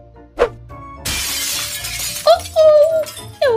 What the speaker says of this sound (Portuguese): Isabela, você quebrou a janela da cozinha